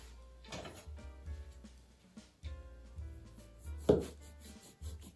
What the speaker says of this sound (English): Cut the dough in half.